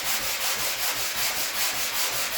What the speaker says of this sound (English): just use the sponge, the sanding sponge